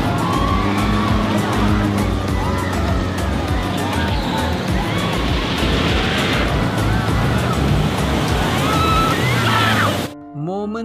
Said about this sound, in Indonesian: kita melihat jeep Pikinaki dan Tugba melakukan drift di air